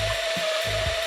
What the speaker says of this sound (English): I'm mixing it so I make sure I get all of the glaze up from the bottom.